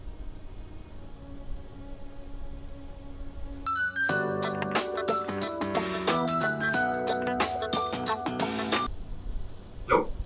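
A phone ringtone plays a bright electronic melody for an incoming call, starting after a few seconds of quiet room tone and cutting off abruptly near the end.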